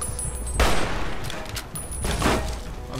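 Gunfire in the video game Fallout: New Vegas, two loud bursts of rapid shots separated by a quieter stretch, fairly close and sharp.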